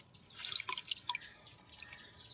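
Water drips and patters in quick, irregular drops as rose plant roots are washed clean before planting in cinder gravel, with the drips close and fairly soft and no voices.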